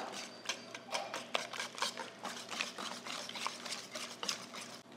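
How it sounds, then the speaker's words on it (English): A whisk beats pie filling with clove and yogurt in a bowl, giving quick, rhythmic scraping strokes over a low steady hum, close and fairly soft. "I'm gonna go ahead and whisk this up."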